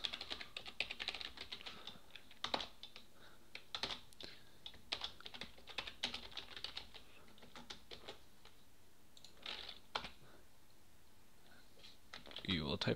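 Typing on a computer keyboard while setting up a Java programming project, quick faint clusters of key clicks in uneven bursts with pauses, close and quiet.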